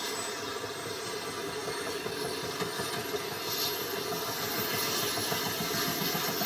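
A vehicle engine idles in the ArmA 2 game, a steady broadband rumble with a faint high whine above it that keeps up without pause and grows slightly louder near the end.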